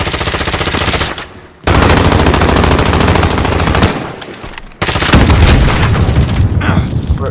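Loud automatic gunfire in a team shooter video game comes as close, dense bursts with brief gaps, and voices are faintly mixed in.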